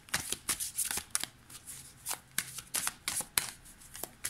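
Tarot cards shuffled and laid out close by in quick, crisp bursts of riffling and slapping, about a dozen sharp card snaps in a few seconds with no talk over them.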